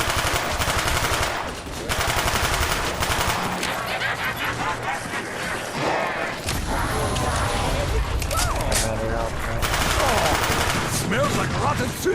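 Gunfire in a Halo-style video game: rapid bursts of automatic fire and single shots crackle loudly through most of the stretch, broken by a brief lull, with a voice talking over the action.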